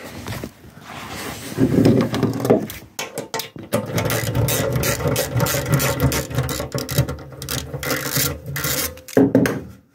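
Ratchet wrench turning to undo a sump bolt on a Ford Flathead V8 engine with an oil pressure problem, a loud, steady rasping click run that pauses briefly near the start and end, heard up close and alone.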